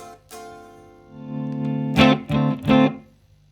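Electric guitar through a crunchy Two-Rock amp: a sustained chord rings out, then three hard strummed chord stabs in quick succession, moderately loud and alone.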